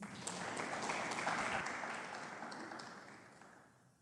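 Audience applause at an International Women's Day poetry, music and debate event, a soft, diffuse wash of clapping that holds briefly and then fades away toward the end.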